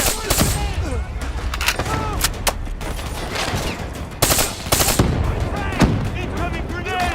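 Call of Duty Black Ops 3 combat: dense automatic gunfire with repeated bursts and sharp single shots, loud and close, with shouted voices mixed into the battle.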